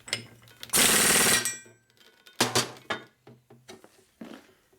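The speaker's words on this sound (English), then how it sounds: "Now this is going to torque down a little bit heavier." A nut being torqued down with hand tools on a 1941 Harley-Davidson WL 45 flathead motor stroked to 56ci, heard as a loud burst of ratcheting clatter followed by several shorter metallic clicks and knocks close by.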